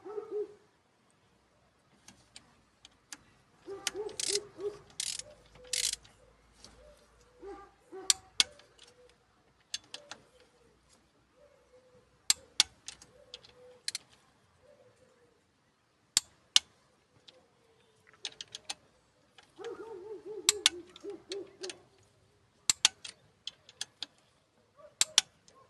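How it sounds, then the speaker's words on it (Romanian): Sharp, sparse clicks and ratcheting ticks come from tightening the camshaft on a Mercedes-Benz 2.2 diesel engine to 10 Nm, heard close up in irregular bursts with quiet gaps between them. "Am pus axul la distribuție și acum o să-l strângem tot cu 10 newtoni."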